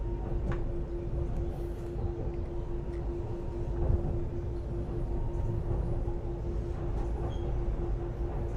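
A London DLR B23 stock light rail train runs steadily with a low rumble and a constant electric whine, a continuous rolling interior hum throughout.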